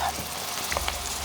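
Onion and eggplant fry in a pan for a traditional dish, giving a steady, close sizzle with faint bubbling pops and no talking.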